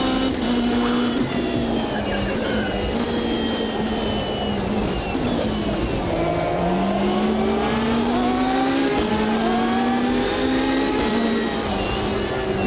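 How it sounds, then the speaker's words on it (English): Porsche GT race car engine in a racing video game, a steady, loud, close mechanical howl whose pitch rises and falls through gear changes and accelerations, with no talk over it. "The GT Porsche does sound lovely, it does indeed, Peter"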